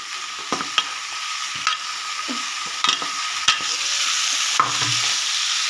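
Boiled banana flower (mocha) frying in a pan for a Bengali mocha ghonto, a steady close sizzle with a few scraping stirs of the spatula, no voices.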